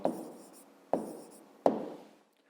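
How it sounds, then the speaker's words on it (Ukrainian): Pen strokes on paper while writing a math answer by hand, three short scratchy bursts, each with a tapping start and a fading scrawl, close and quiet. "Пишемо відповідь. Записуємо 4"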